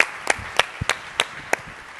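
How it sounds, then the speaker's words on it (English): Tail end of audience applause at a corporate presentation, a handful of separate sharp hand claps spaced evenly and thinning out, fairly close, with no talk. "keep that applause going and join me in welcoming to the stage Jeff Bush"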